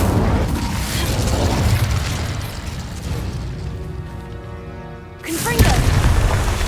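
The Incendio fire spell from Hogwarts Legacy builds as a rushing, crackling roar under a tonal voice-like call, then a sharp burst flares near the end before the fiery rumble resumes.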